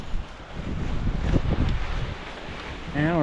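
Strong wind roars and buffets across the microphone at a mountain pass on a bike climb toward Star Lake, a dense rushing noise that swells and eases over a few seconds.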